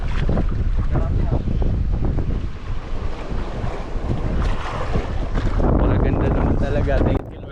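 Steady, loud wind buffets the microphone on a small boat while fishing for barracuda off Ternate, Cavite, with water and waves rushing beneath throughout.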